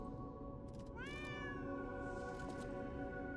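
An in-game cat from Lies of P gives a single rising, tonal meow, clear and close, over a steady bed of game ambience and music.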